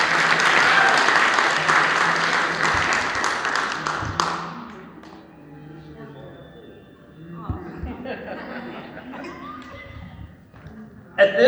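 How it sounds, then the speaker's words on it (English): Crowd applause at a Special Olympics pep rally in Sandusky County, loud dense clapping for about four seconds that fades out, followed by scattered claps, murmuring and room noise. "Let's give them a round of applause."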